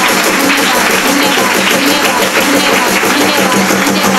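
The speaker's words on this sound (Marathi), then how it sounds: "जोरदार टाळ्या वाजवा" Loud, continuous applause from a congregation at a Marathi prayer meeting in a Naigaon prayer house, a dense steady wash of clapping filling the whole stretch without pause.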